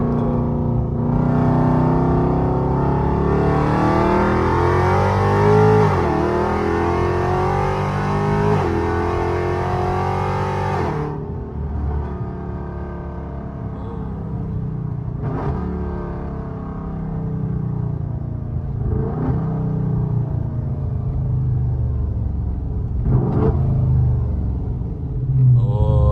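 A supercharged Hemi car engine revs hard for the first ten seconds, with pitch climbing and falling through shifts. It then settles into a lower, steadier rumble broken by several short blips as the driver downshifts.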